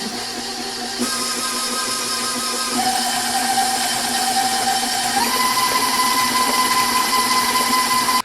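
Stand mixer fitted with a scraping paddle attachment beats four eggs, giving a steady, loud mechanical motor whine with a rising pitch shift partway through, running continuously without talk.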